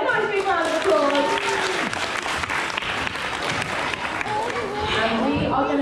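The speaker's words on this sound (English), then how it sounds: "let's give Guy a nice big round of applause" An audience at a parrot show at Pleasurewood Hills applauds loudly and steadily, a dense wash of clapping from many hands with some crowd voices mixed in.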